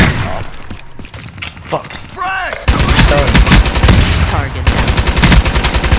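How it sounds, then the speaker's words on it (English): Rapid automatic fire from a flying ship in Black Ops 3, loud bursts that start in bursts and then run as a continuous stream, with a player cursing over the shooting. "He got some type of flying ship shooting shit out of me."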